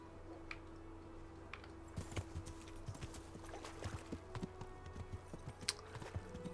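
A horse's hooves clop in the Kingdom Come: Deliverance video game, a faint irregular run of soft thuds that grows busier toward the end over a low ambient hum.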